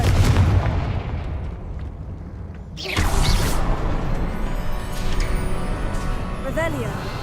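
The Confringo fire spell explodes in Hogwarts Legacy on PS5. A sharp, loud blast hits near the three-second mark and is followed by crackling, rumbling debris, with speech from the game's voice acting heard around it.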